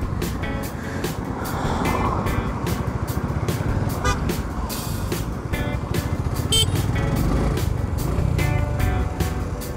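Cars and trucks rush past on a highway beside a roadside coffee stop, a loud continuous traffic roar with repeated rhythmic clatter and a short horn toot amid the passing vehicles.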